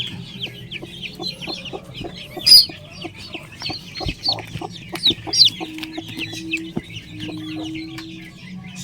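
A hen with six chicks clucks in soft, low bursts while the chicks peep constantly in high, rapid chirps close by, with occasional louder cheeps.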